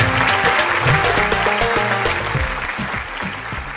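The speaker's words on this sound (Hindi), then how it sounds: "निशा के लिए बहुत सारी तालियां" Lively audience applause at a live kids' TV game show in Pakistan, clapping loud and close, with music or studio tones running beneath and the clapping easing slightly toward the end.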